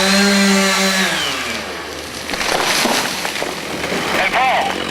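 A chainsaw cuts into a tree limb close by, a loud buzzing whine that drops in pitch as the blade bites, followed by rough sawing noise and voices talking.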